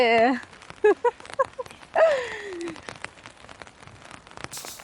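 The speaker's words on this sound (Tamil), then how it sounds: "என்னது மழை வருது?" Rain patters steadily on surfaces around a home and garden with scattered drop ticks throughout, while a person talks and a voice rises briefly over it.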